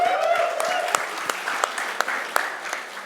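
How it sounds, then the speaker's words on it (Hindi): Audience applause at a stage launch event for a mobile app, a steady, dense wash of many hands clapping throughout with sharper individual claps standing out near and clear. "पर मनोज के लिए तालियां तो बनती है यार"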